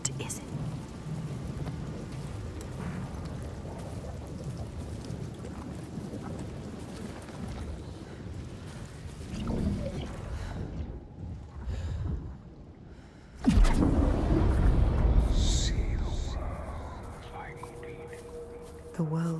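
Rain and thunder in the video game Hellblade 2, a steady rain wash with low rumbles that swells into a loud, close thunder crash midway, with a voice speaking over it.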